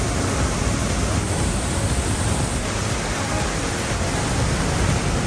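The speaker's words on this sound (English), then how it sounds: "Once you go in, you can hear the roaring sound of the waterfall." Roaring waterfall at Lauterbrunnen, Switzerland, fed by mountain meltwater, a loud, steady broadband rush that stays constant and close with no voices over it.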